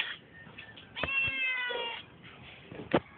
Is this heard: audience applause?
no